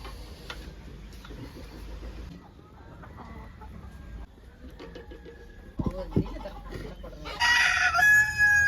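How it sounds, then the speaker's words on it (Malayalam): Chickens cluck steadily in the background of a home kitchen during fish curry preparation, with a rooster's crow rising loudly near the end over faint ticking and clattering. "നമ്മുടെ കോഴിയുടെ ബാക്ക്ഗ്രൗണ്ട് അയ്യട എല്ലാത്തിലും"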